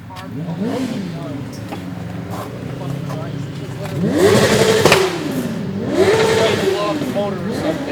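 An old car engine revs in a few rising and falling surges, loud and close, with people talking over it.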